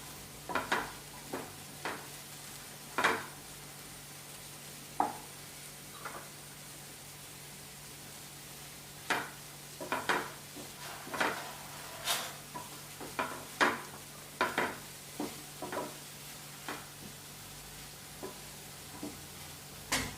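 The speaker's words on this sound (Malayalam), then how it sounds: "എന്നിട്ട് നമുക്കൊന്ന് ഇളക്കി കൊടുക്കാം." A utensil scrapes and taps against a frying pan while a Spanish omelette mixture is stirred, irregular sharp clinks spaced a second or two apart over a faint steady hiss, close and alone.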